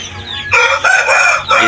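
A Shamo gamecock rooster crows loudly and close, a drawn-out call in several bursts, with faint background sounds before it starts.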